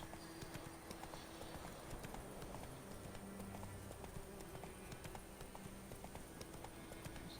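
Horse hooves clip-clop in a steady galloping rhythm in The Witcher video game, faint and continuous with light game ambience behind.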